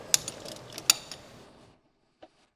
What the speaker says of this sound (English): Use a 15mm deep socket with a 6mm square interface to remove the tower top bolts.